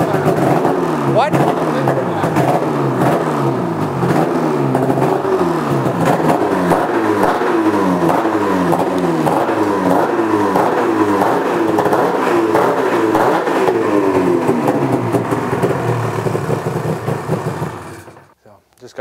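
A Ski-Doo REV snowmobile engine with an RKTek 827 big bore kit runs continuously and loud up close, with a rough, pulsing idle that fades out at the end; voices are faintly mixed in.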